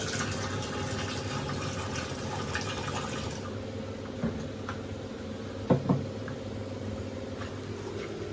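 About 2.5 cups of rice being washed in water for a home kadi pakoda meal: a continuous sloshing, running-water wash with a couple of brief splashy knocks near the end, close and moderately loud.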